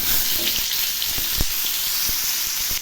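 Cauliflower and potatoes drop into hot oil already seasoned with cumin seeds and a bay leaf, setting off a steady, close sizzle with a few sharp crackling pops scattered through it.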